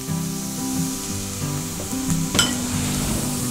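Stuffed pomfret frying in a pan, a steady, fairly loud sizzle with faint clinks of a utensil and one sharp scrape midway.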